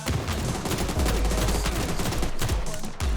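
Rapid pistol shots ring out in a first-person shooter game, loud, dense bursts firing almost continuously for about three seconds with brief gaps near the end, no talking over them.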